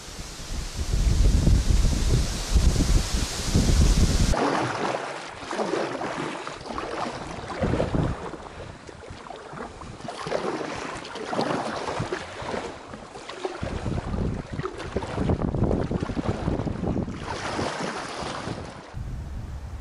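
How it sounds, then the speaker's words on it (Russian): Strong hurricane-like wind buffets the microphone outdoors on the bank of a northern taiga river, a loud, continuous gusty roar with rushing surges throughout. "На улице вообще ураган."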